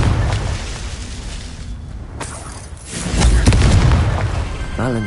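A Confringo blasting spell explodes in Hogwarts Legacy, a deep booming blast that swells midway among rumbling impacts and whooshes, loud and close.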